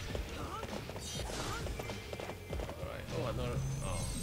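Horse hooves clip-clop at a gallop in the Hyrule Warriors game, a busy rhythmic patter mixed with battle effects and music, with players talking over it.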